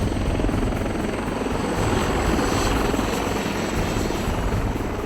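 A military helicopter sets down to evacuate casualties during a reservist exercise, its rotor and engine making a loud, continuous, close thrum that fills the whole stretch with no voices.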